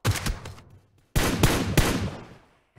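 Bursts of gunfire in the PUBG Mobile battle royale, a rapid volley up front, a short lull, then longer loud automatic fire with sharp shots that trails off, no voices.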